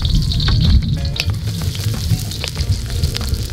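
Garlic sautéing in a pan for Filipino adobo outdoors, a loud, steady sizzle with crackling spits and a low rumble from the cooking setup running throughout, no talk.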